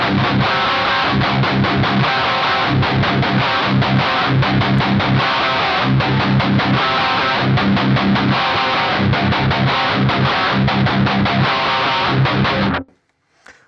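A heavily distorted electric guitar plays a loud repeating riff of tight palm-muted chugs and sustained notes, then cuts off abruptly near the end.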